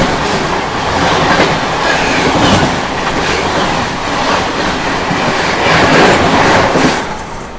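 Indian Railways 12398 New Delhi–Gaya Mahabodhi Express running on rails, a steady loud rumble with rhythmic clickety-clack of wheels over rail joints, heard from on board and continuing without talk until it eases at the end.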